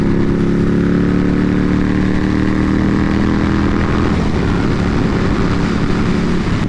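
A 2020 Indian Scout Bobber motorcycle riding and cornering, its engine a loud, continuous low drone with wind noise that holds steady, then shifts slightly in pitch as the bike leans through a turn.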